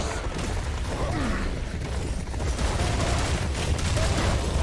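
Auto-shotgun fire in the video game Serious Sam 4, a dense, loud barrage of blasts with mechanical clatter layered over heavy low-end rumble, continuous throughout without pause.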